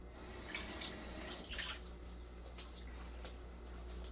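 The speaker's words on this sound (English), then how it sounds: "I'm washing with soap and water before each" Tap water runs steadily from a faucet while hands are washed with soap between chili tastings in a home kitchen, a soft continuous splashing with brief louder gushes, close by and without talk.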